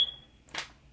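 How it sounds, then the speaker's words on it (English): A single short high-pitched electronic beep from a smoke alarm sounds at the start, followed by a faint brief rustle in an otherwise quiet room. "you keep hearing a loud beep noise. That's from my smoke alarm."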